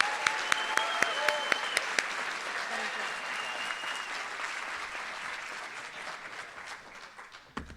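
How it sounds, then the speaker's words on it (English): Sustained applause from an audience at a senior awards night, a few sharp individual claps standing out near the start before the steady clapping slowly fades. "I think they deserve a big round of applause"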